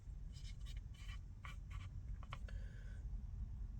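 Handwriting on paper, a few quick faint scratching strokes in short bursts over a low background rumble, close and without talk.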